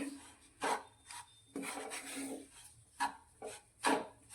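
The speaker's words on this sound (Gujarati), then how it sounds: "અને બંને લોટને હવે આપણે સાથે શેકીશું." Flour roasts in ghee for methi pak while a spoon scrapes and stirs it in the pan, giving close, irregular rasping strokes in short bursts with quiet gaps between them.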